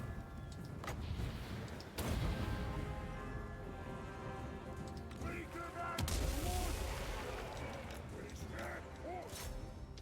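Artillery barrages thunder across a Total War: Warhammer battlefield, with heavy booming impacts landing around two and six seconds amid a dense, continuous roar of combat, mechanical clatter and faint voices.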